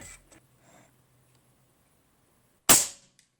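A single sharp shot from an Airmaks Arms Caiman X regulated bullpup PCP air rifle with a CZ barrel, a loud crack with a short decaying tail near the end after a few faint soft sounds.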